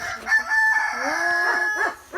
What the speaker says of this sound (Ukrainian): Знов той півень кукурікає